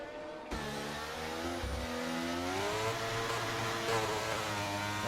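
A race car at the start of a sim race at Monza spins its wheels and revs hard, a loud, close engine note rising and wavering with tire whine, with no one talking.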